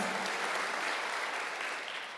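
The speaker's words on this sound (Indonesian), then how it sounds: "Tepuk tangan buat Yesus, saudara." Worship service congregation breaking into applause, a full steady roar of many people clapping together that tapers slightly toward the end.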